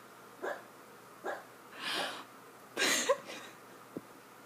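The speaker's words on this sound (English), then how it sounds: "that's my dog dreaming and barking in her dream" A sleeping dog lets out soft, muffled barks and woofs while dreaming, several short quiet bursts spread unevenly over a few seconds, faint and off in the background.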